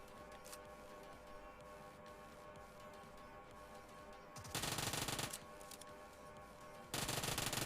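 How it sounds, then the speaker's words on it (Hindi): Gunfire in the mobile battle royale game PUBG Mobile, two loud bursts of rapid automatic fire over a quieter backdrop of game sounds, the first about a second long and the second near the end. "स्कूल की तरफ से फायरिंग चलने लगी थी"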